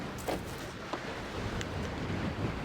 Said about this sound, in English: It's just because the wind is terrible.